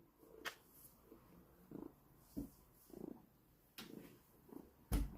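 A house cat purrs softly while being hugged, its quiet rumbling broken by several brief louder rustles and bumps.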